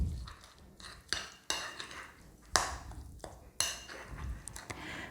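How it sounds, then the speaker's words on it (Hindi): A spoon mixes salt, lemon juice, black pepper and food colouring into a masala for roast chicken. Close scraping and clinking against a bowl recur in irregular strokes, with no one speaking. "अब इन सब चीज़ों को मिक्स करते हैं"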